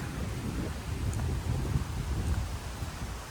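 Wind gusting near the ocean at the Shangri-La Hambantota resort in Sri Lanka, a steady, loud, low rumbling roar buffeting the microphone for the whole stretch, with no voices.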